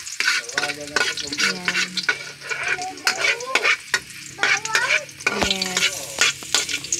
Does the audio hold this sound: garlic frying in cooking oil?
yes